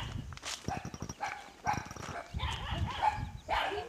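Many dogs bark in a rural farm area, a loose chorus of sharp, overlapping barks and yips near and far, with some voices mixed in.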